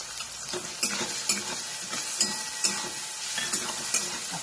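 Onion and peanuts frying in a pan for upma: a continuous close sizzle with repeated scraping stir strokes from a spoon against the pan at a loose, regular rhythm, no voices.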